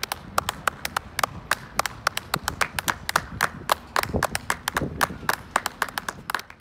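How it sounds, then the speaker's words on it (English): A single nearby person claps sharply and steadily outdoors on a residential street during a Thursday-evening show of support for carers, crisp rhythmic claps with a soft background hum. "people are being encouraged to stand outside their doors and clap"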